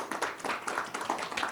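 Audience claps for a woman moderator introduced at a panel on women's security at a tech event, a brief scattered patter of hands, fairly soft and moderately distant, without talk over it.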